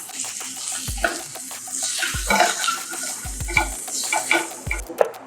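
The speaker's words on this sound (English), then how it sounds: "We saute for around 2 minutes until the vegetables are cooked." Vegetables sautéing with capers, anchovies and tomato paste, a close, lively sizzle with repeated scraping stirs and a few sharp clinks of utensil against pan.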